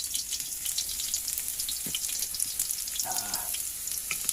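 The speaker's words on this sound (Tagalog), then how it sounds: "igisa muna natin siya yung hipon" Washed shrimp sautéing in a pan, a continuous bright sizzle and crackle with a couple of brief stirring or scraping noises partway through, no talking.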